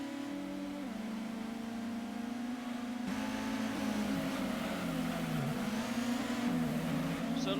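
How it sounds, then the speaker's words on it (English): A steady race car engine drone from the Gran Turismo 1 video game, an LMP Dragon, holds throughout, its pitch rising and dipping as the car speeds up and eases off, with a synthetic, game-like tone. "You can hear the engine though."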